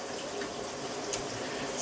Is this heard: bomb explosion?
no